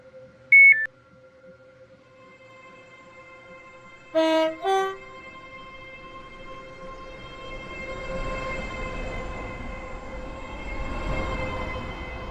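A train in the Stepford County Railway video game, a four-coach Stepford Connect service, sounds brief electronic chimes before its horn gives two short blasts, then a steady rising rumble and hum builds as the train runs past.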